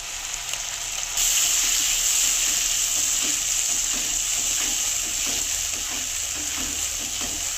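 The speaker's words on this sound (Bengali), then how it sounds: "এইবারে দিয়ে দেব কাজু, কিশমিশ আর আমান, এই পেস্টটা এবারে দিয়ে দেবো।" A cashew, raisin and spice paste drops into hot oil for a vegetarian potato korma, setting off a sudden loud sizzle that keeps crackling steadily while the mixture is stirred, with no talking.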